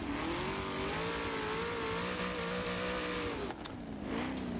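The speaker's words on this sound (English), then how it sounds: "This car is so mean sounding." A 1000+ horsepower rear-wheel-drive race car in Forza 7 on the Dubai circuit revs hard and continuously, its engine note rising and dipping with a brief drop near the end, loud and close with no voices.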